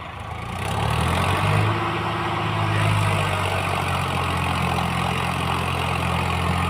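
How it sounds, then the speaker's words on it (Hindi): A tractor engine idling at a brick kiln, a steady loud low-pitched mechanical drone that rises slightly after the first second and holds evenly with a faint harmonic hum, no talking. "ये देखो ट्रैक्टर इन्होंने कर लिया स्टार्ट।"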